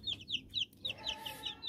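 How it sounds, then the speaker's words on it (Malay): Chickens on a rooftop garden cluck in short, bright bursts, several quick calls in a row, fairly near but soft, with no talking. "Ayam kule"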